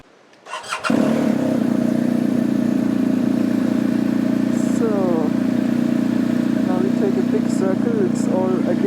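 A motorcycle on a one-way road across a bridge, starting up, then a loud close engine drone held steady with slight shifts in revs, plus scattered wind noise.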